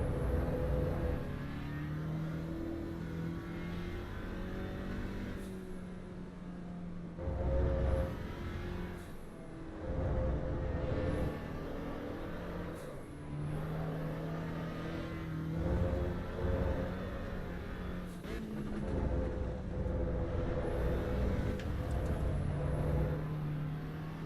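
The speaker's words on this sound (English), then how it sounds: "It does have a weird gearboxy engine noise." An Alpine A110 in the racing game Assetto Corsa EVO laps Suzuka, its engine droning with a whiny, gearbox-like tone that rises and falls with revs and drops out briefly at each gear change, steady and fairly quiet.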